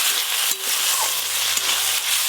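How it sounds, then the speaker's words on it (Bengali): Spices with onion, ginger, garlic and tomato, plus chopped onion, dried chili paste, turmeric and salt, sautéing in a pan: a loud, dense sizzle with a couple of brief stirring knocks. "এবার এই সব মশলা আর একটু ভালো করে কষিয়ে নেব"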